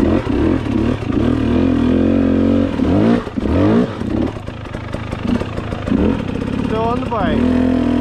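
A 250 motorcycle engine revs hard and continuously on a rough trail, rising and falling through several throttle bursts with clattering mechanical noise, loud and close throughout.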